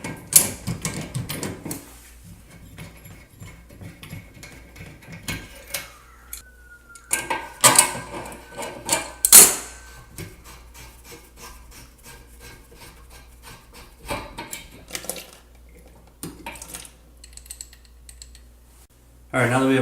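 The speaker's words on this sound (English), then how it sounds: "Then we'll grab our small channel locks and we'll remove the supply line." Small channel-lock pliers grip and twist loose the flex supply line on a toilet tank fill valve, giving scattered close scraping, clicking and rubbing sounds with brief louder clanks, and some talk in places.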